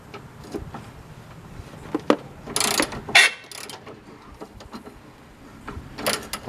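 A ratchet turning a 12-point socket while working on a truck, several quick clicking bursts and clanks close by with gaps of quieter handling noise between.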